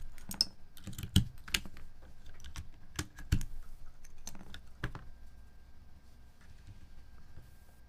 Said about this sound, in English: I think that I need to pull off a couple more keycaps.